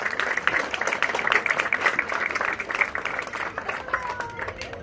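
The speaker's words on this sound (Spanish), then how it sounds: "más fuerte ese aplauso" Applause breaks out at a gift-giving event, with dense hand clapping mixed with crowd noise and voices running throughout at a steady, fairly loud level.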